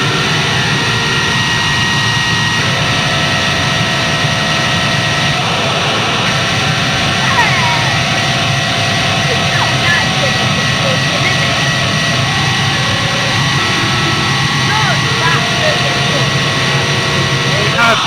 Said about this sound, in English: go on, George, do a bit more distortion